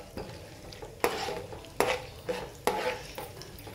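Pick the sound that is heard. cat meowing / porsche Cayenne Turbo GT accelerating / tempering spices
tempering spices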